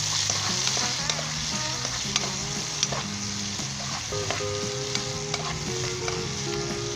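A poppy seed and egg mixture is stirred and fried in a pan, a loud steady sizzle running throughout with repeated scraping and clinking of the spoon against the pan, close up and with no talking.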